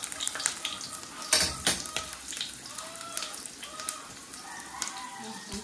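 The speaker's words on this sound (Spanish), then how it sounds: "A dorar el chile." Chile browning in a frying pan with onion, giving a soft, steady sizzle broken by a few sharp clinks of a utensil against the pan, with faint voices in the background.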